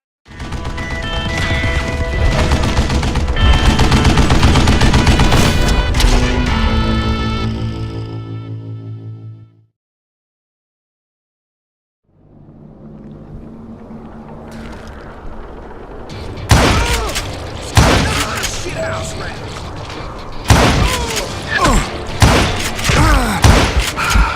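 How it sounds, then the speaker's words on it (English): Gatling gun hidden in a tunnel in Call of Juarez Gunslinger, a loud sustained roar of fire that cuts off into silence, then resumes as sharp repeated close impacts and bursts. "Kid Curry opened up on me with a goddamn Gatling gun"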